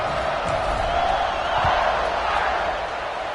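A football stadium crowd buzzes loudly after a touchdown, a dense, steady roar of voices with scattered whoops that eases slightly near the end.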